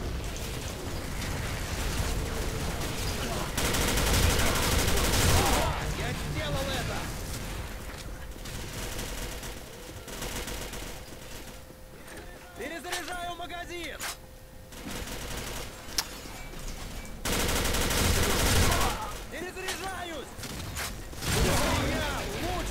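Support fire in the video game Arctic Combat: sustained bursts of automatic gunfire and heavy booming shots, loud and dense throughout, with someone talking over parts of it.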